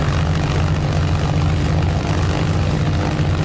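A Mitsubishi A6M5 Zero's propeller engine held at 1800 RPM during its run-up, a loud, steady, close-up drone with strong low-end rumble and no pauses.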